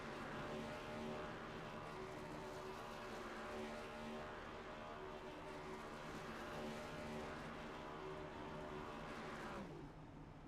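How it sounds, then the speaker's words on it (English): A race car in iRacing does a burnout after a Cup race at Pocono. Its engine holds a loud, steady, harmonic roar for about ten seconds, then the pitch drops and eases off right at the end. "I love my burnouts, man."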